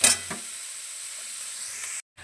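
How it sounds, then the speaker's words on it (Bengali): Vegetables fry in a pan with a few mung lentils, a steady bright sizzle after a brief clatter at the start, then a sudden cut to near silence at the end. "সবজিগুলো একটু ভেজে নিই"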